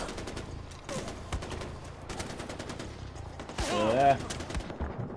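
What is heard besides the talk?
gunfire from enemy shooting, Far Cry 4 video game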